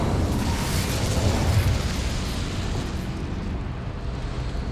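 An Incendio fire spell cast in Hogwarts Legacy, a steady, loud roaring whoosh of flame that holds for several seconds and then eases off slightly.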